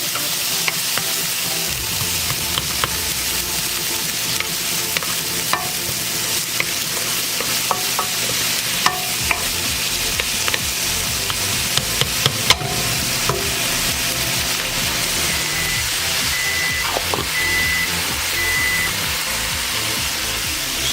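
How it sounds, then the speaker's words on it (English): Garlic fries in a wok while being stirred, a constant loud sizzle punctuated by repeated scraping and clinking of a spatula against the metal over about twenty seconds. "Because this is a wok, you gotta move this stuff around. Otherwise, your garlic will begin to burn."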